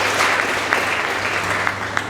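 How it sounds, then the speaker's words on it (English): Audience at a school debate competition applauding steadily, a dense, even wash of clapping from a large crowd with no speech over it. "Please give them a round of applause."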